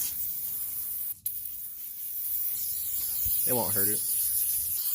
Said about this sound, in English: we've got the whole undercarriage sprayed off